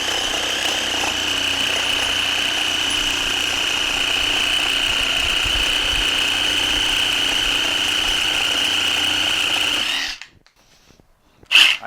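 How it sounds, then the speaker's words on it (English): Corded Dewalt reciprocating saw fitted with a carbide blade, buzzing at a steady high-pitched whine for about ten seconds before cutting off, leaving near quiet and a brief rattle at the end. "Alright, so this is the Sawzall."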